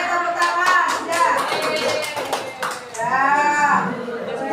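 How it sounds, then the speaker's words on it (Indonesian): A group of children claps briefly in a classroom, with a few sharp claps mixed in among excited voices, and more talk follows. "Oke, tepuk tangan."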